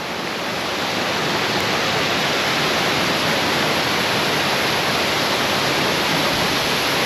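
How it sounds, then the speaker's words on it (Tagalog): Strong waves crash on a pebble beach in a loud, continuous roar of churning water, with no voices. "Grabe, lakas ng alon, nalalaki oh."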